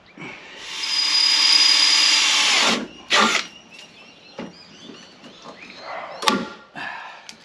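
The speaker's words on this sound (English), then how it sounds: "Grab my rivet gun." Rivet gun setting rivets during a boat modification, with a sustained loud powered whine for about two and a half seconds, then a short burst and a sharp crack near the end amid quieter handling clatter.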